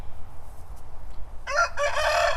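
A rooster crows once, starting about midway after quiet farmyard background, loud and close at an animal sanctuary.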